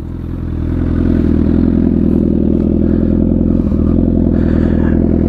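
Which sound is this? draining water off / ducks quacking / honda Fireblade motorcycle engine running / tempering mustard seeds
honda Fireblade motorcycle engine running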